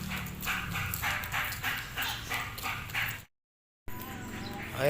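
A dog barks in a quick run of repeated yaps, fairly close, before a short silence and some faint whimpering.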